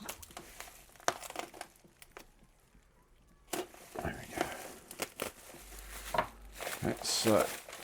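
Wrapped matchbox-challenge packages are cut open by hand, giving close crinkling, crumpling and tearing of wrapping in irregular bursts, with a brief quiet pause midway and some vocal sounds mixed in.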